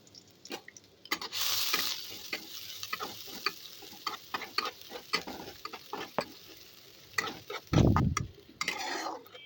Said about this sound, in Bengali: পেঁয়াজ আর রসুনটাকে হালকা করে ভাজা ভাজা করে নেব